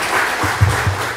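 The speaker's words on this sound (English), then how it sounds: "I think we should clap for him once again" Audience applause at an MRI workshop in sub-Saharan Africa, a dense crackling clapping that carries on steadily with a couple of louder claps, fairly close and without talk.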